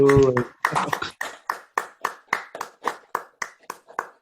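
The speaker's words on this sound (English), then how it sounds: "I think we all should give them all a round of applause for this accomplishment." Clapping during an online call for a college STEM symposium closing, starting with a brief voice and then about a dozen sharp, evenly spaced claps from a single nearby source.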